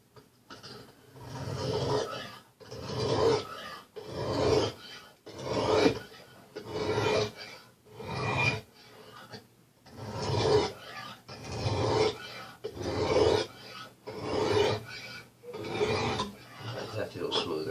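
A knife blade is drawn across a Lansky sharpening system hone in a series of about a dozen rhythmic rasping strokes, each a swelling scrape followed by a brief pause, close and clear.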